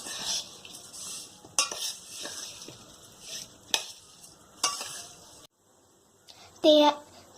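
Batter is stirred in a bowl during a student cooking competition, with bursts of wet scraping strokes separated by pauses, a short silence, then a loud clatter of utensils near the end.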